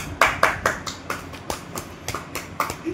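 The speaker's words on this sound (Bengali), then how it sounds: "হুম হাততালি হাততালি হাততালি।" A few people clapping at a birthday celebration in Digha, sparse uneven claps in loose rhythm, close and fairly loud, with brief pauses between bursts.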